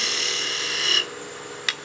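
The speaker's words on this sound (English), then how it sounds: "I will practice a slicing cut here on the end of our Ogee." A steady rasping shave of a skew chisel making a slicing cut on wood spinning on a lathe, ending abruptly, followed by a short sharp tick.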